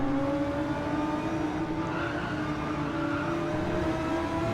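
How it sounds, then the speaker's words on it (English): Audi race car engine in a racing video game, a loud, steady high-revving drone with a faint gear whine, holding near constant pitch with slight rises, heard alone without talk. "So I don't know if you can tell by the sound, I'm in the Audi."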